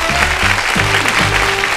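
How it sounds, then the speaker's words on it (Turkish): Studio audience applauding on the Turkish quiz show Büyük Risk, a dense, loud wash of clapping that fills the whole short stretch, with a faint low tonal backing underneath. "Alkış bir daha."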